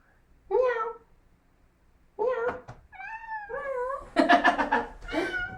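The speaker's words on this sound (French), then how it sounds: "Viens miauler dans le micro." A cat meows into the microphone, very close: one meow, a pause, then a run of several drawn-out meows and chirps, getting louder toward the end.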